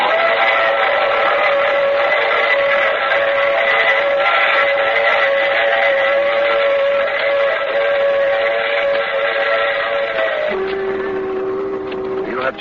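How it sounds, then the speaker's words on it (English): A radio drama sound effect of a train under way with a sustained steam whistle, a loud droning chord that holds for about ten seconds, then drops to a lower tone over a rumbling background. "I take this same train every week at this same time."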